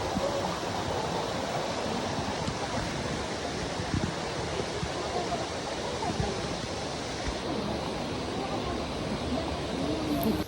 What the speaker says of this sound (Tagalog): Konting lakad nga lang ay nakarating agad kami dito sa Bilog Falls.